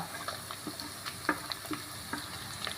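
Garlic and a dozen spicy round green chillies sautéing in a pan for mango pickle, a continuous close sizzle with frequent light stirring clicks and scrapes of the spoon.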